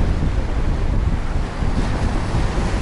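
Steady rushing roar of rough sea surf in a mild storm at Lazarevskoye, Sochi, with gusting wind noise, continuous and fairly loud, no voices.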